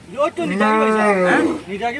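A cow lowing at a Sylheti Eid cattle market for Qurbani animals, one long drawn-out moo lasting over a second, loud and close, with brief market noise around it.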